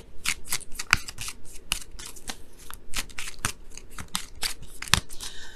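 Tarot cards shuffled and drawn by hand, a close run of quick papery riffles and snaps in uneven bursts, one after another with no talking.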